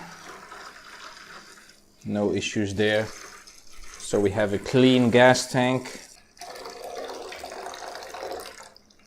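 Water drains out of a metal fuel tank through a removed plug, pouring with a steady splashing trickle, while someone talks over it in short bursts and the flow keeps going alone in the gaps.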